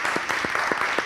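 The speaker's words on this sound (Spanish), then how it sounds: "Un fuerte aplauso para él, de verdad." Audience applause for an interview guest at a live event, a steady dense wash of clapping with a few sharper claps standing out, heard alone.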